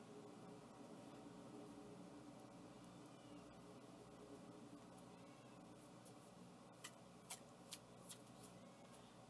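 Tarot cards are shuffled quietly in a soft, continuous rustle, ending with a few crisp riffling snaps close by.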